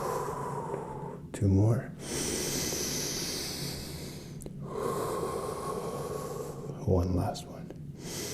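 Heavy breathing during a hip flexor compression drill, with two loud bursts of breath standing out near and clear against a steady background while an instructor counts the final reps.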